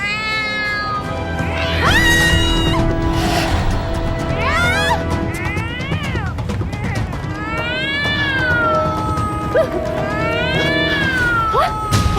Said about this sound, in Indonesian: Suara kucing berisik banget, Bu. Meow.